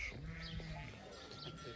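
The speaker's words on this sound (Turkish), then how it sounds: "Şimdi koyunlar da korkuyor." Sheep bleat faintly on a farm, one wavering cry followed by weaker calls in a quiet, distant-sounding space.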